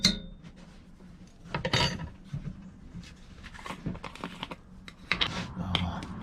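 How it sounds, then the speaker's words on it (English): Spoon scraping and clinking in a pot of beef jerky risotto as it's stirred, irregular close scrapes and taps, fairly quiet with no talking. "Stir that up a bit"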